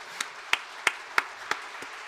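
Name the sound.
applause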